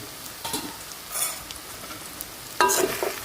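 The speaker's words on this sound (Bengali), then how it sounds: "ভাজা বাদাম অনেকক্ষণ হয়েছে তাহলে এবার খোলো ঢাকনাটা দেখি" Peanuts frying in a pan for singara, soft crackling sizzles and a few stirring scrapes in short bursts, close and fairly quiet.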